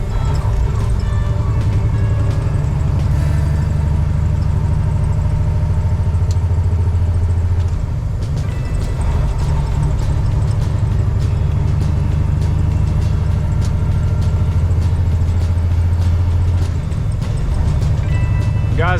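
Heavy truck engine pulling a loaded trailer, a steady loud low rumble and drone running throughout with slight shifts in load, close and continuous.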